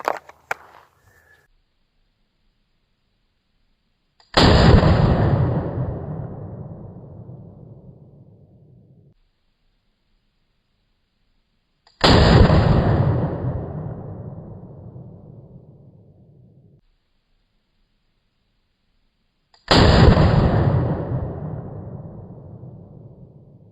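.44 Magnum firing Buffalo Bore solid copper bear loads, three loud, sharp gunshots spaced several seconds apart, each followed by a long decaying echo.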